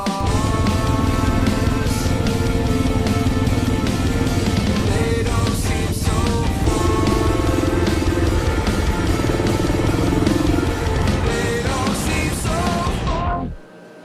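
A Yamaha XT 500 single-cylinder motorcycle being ridden on a US coast-to-coast trip, its engine droning steadily and loudly up close for the whole stretch, with rumble and wind, before cutting off abruptly at the end.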